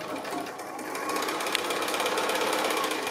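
A sewing machine stitches fabric flower petals along a drawn line, a fast steady whirring drone that runs continuously and close at moderate volume, with no voices.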